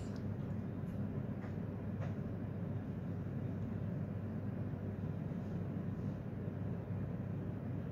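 Interior rumble of a CJX5 regional express train running, a steady low drone with faint rattles, continuous and moderately quiet throughout with no speech.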